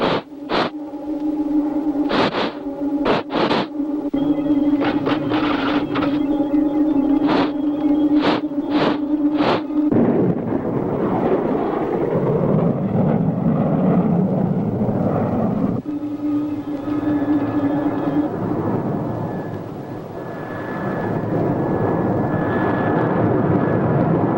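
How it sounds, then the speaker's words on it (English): A radio-drama spaceship lands: a sustained roaring engine drone with rapid pulsing bursts at the start, then a broad rushing roar that swells and slowly fades, with no voices. "Space Angel just landed in the Starduster"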